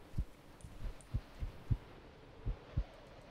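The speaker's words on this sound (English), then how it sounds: "I can hear a heartbeat still." Soft thudding heartbeats pulse in the horror game From The Darkness, quiet and close, about nine beats at a slightly uneven steady pace with no voices over them.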